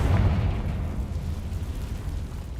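Confringo blasting spell in Hogwarts Legacy on PS5 erupts in a loud, close explosive boom that rolls into a long rumbling decay, with no one speaking.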